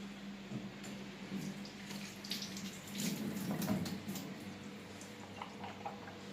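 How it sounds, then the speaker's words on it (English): Tap water running into a sink during hand washing, a steady moderate splashing stream with faint clinks and rubbing, fairly close and without speech. "So I turn off the water to reserve water."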